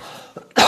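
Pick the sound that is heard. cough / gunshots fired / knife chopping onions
cough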